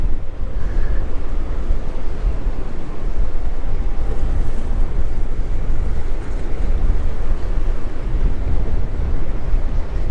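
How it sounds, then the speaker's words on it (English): Strong wind buffets a microphone on a Florida fishing pier, a steady, loud rumbling gust with surf washing below and no voices. "It's pretty windy out"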